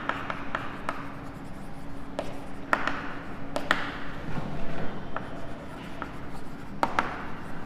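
Marker or chalk writing on a classroom board during a maths lesson, a series of soft scratchy strokes and sharp taps at irregular intervals, fairly close and quiet.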